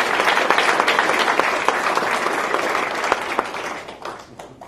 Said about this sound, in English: She really deserves a round of applause.